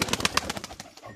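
Pigeons cooing among kept racing or flying birds, a quick run of soft repeated throaty pulses close by, with no voices.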